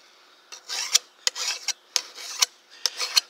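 Hand file rasping along the back edge of a metal cultivating hoe, six or seven close, gritty strokes in an uneven rhythm, each ending in a sharp metallic scrape.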